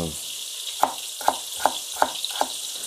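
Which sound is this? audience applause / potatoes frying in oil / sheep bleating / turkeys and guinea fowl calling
potatoes frying in oil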